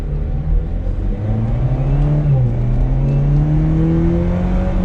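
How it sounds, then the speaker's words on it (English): A 2021 Chevrolet Camaro 1LS engine revving, its loud close exhaust note climbing steadily in pitch to higher RPM, briefly dipping, then rising again and holding. "getting up into the higher RPM there just a little bit more"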